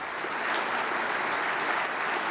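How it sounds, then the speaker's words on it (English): Steady applause from an audience at a groundbreaking ceremony for a multipurpose arena, even and continuous clapping at moderate loudness with no talk over it. "Let's give them a big round of applause."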